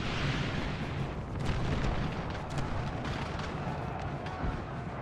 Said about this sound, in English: he's getting hit by a ton of artillery